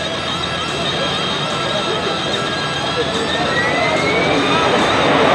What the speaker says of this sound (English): Now you hear the spooling up of the jet engine of the AV-8B Harrier